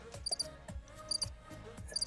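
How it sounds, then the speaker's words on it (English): Crickets chirping on the other side of a closed door, muffled repeating high chirps in short bursts over low thumping room noise. "There's the crickets on the other side of the door."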